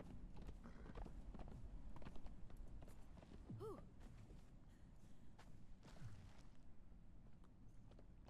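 An undead horse from Conan Exiles walks at an even pace, its hooves clopping steadily in a soft, regular rhythm under faint background game ambience.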